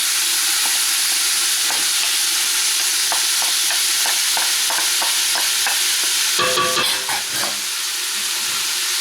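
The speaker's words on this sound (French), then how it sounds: "J'y rajoute les pois chiches, l'oignon," Chickpeas and onion tipped into a pot of lamb pieces for Moroccan harira, over a constant sizzle with rhythmic stirring scrapes and a short clattering burst near the end.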